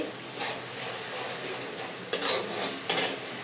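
Spices for a potato and cauliflower dish fry and sizzle in a pan, with a steady hiss and a few sharp scrapes and clinks from stirring, close up and without speech.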